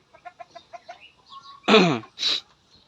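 Bisaya chicken of asel bloodline clucking close by on a farm, a run of short evenly spaced clucks followed by two louder drawn-out squawks.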